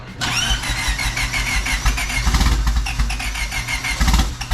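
A built Honda Civic with a big cam and fully built head fires up for the first time, cranking then catching into a loud, choppy, uneven idle with sharp rhythmic pulses close to the microphone.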